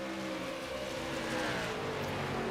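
Race cars in a Thunder Valley Racing esports sim league accelerate out of a turn, several engines droning and rising in pitch together, moderately loud and steady with no talk.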